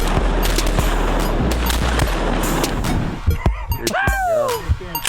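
Shotgun blasts from a morning waterfowl hunt, sharp reports popping out of a dense wind and outdoor rumble, with a few louder shots near the end as voices call out in the open air.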